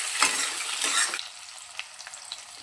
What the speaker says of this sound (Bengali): পেঁয়াজটাকে হালকা একটু 2 থেকে 3 সেকেন্ডের মতো একটু তেলের মধ্যে ভেজে নেব।